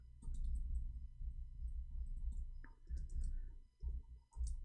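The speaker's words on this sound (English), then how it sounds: "I cannot read your text when I am typing" Fast typing on a computer keyboard, a close run of quick plastic key clicks with short pauses between bursts, faint and steady against a low background hum.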